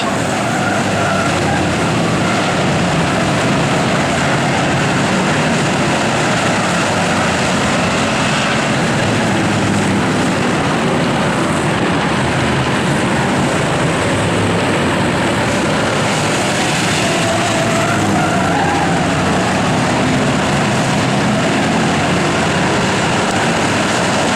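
Eight-cylinder enduro race cars roar around Riverhead Raceway, a dense continuous wall of engine noise from heavy traffic on track, steady and loud throughout with no voices.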